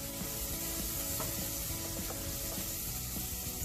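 Onions sizzle steadily in a pan set over an open wood fire, a close, continuous frying hiss with faint clinks of stirring throughout, with no talking.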